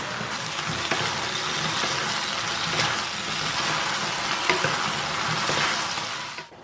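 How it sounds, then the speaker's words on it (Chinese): Sweet and sour pork, gulurou, stir-fried with vegetables in a wok, giving a steady, close sizzle with scraping stirs throughout before fading at the end. "翻炒4、5秒钟，然后把炸好的咕噜肉放进来"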